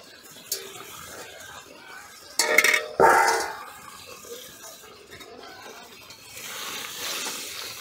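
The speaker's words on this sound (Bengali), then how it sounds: "এই ভেজে রাখা বেগুনগুলো মশলার উপর দিয়ে দেব।" Fried eggplant pieces tipped onto a frying spice paste for a Bengali poppy-seed eggplant dish, giving a low sizzle with a burst of clattering pan and utensil knocks around the middle, then a louder hiss rising near the end.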